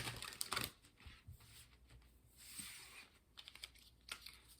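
Tarot oracle cards being shuffled by hand, a quiet run of close, irregular riffling and tapping clicks in short bursts with brief pauses between.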